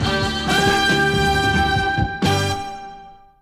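A funk track plays to its close, dense band sound with a held brass note, a brief break, then a final brass note that rings out and fades, with no talk over it.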